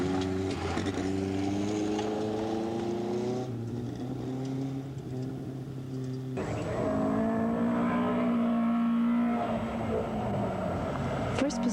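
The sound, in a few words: rally cars driving in 1980 Rocky Mountain Rally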